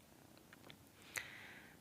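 A house cat purrs softly and close by indoors, a faint, low, steady rumble with a small sharp sound partway through.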